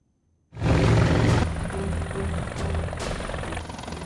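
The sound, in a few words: helicopter landing at a sports stadium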